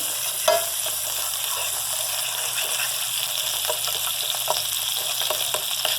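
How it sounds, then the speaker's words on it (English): Flour being stirred into melted butter in a pan for white gravy, a steady broad sizzle under light repeated scraping and stirring strokes, with one sharp knock near the start and no speech. "Okay, and then I'm adding my flour. Get your flour all mixed in."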